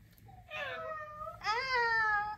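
A child dressed as a cat for Halloween imitates a cat's meow with two drawn-out, wavering meows, the second louder and longer, close and clear against a quiet room.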